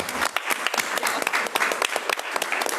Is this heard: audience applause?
yes